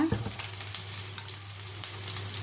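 Boiled cabbage fries on high flame with a constant bright sizzle, punctuated by light stirring ticks and a steady low hum from the stove.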